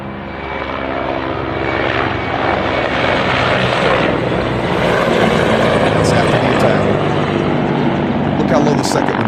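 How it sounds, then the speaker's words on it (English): Low-flying military helicopters pass overhead outdoors, a loud, steady rotor and engine roar filling the whole stretch with slight swells as they move away. "Now you're going to see the choppers leaving."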